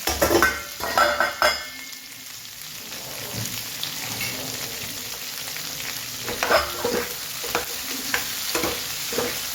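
Onion, tomato, green chili and asafoetida frying in a pan, a steady close sizzle with scattered stirring scrapes, louder clattering bursts at the start and again near the end.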